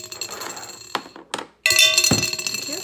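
Glass clinking during a homemade water cycle experiment with kids: a few sharp clinks and taps, then a loud, bright ringing clink that fades out slowly, close up.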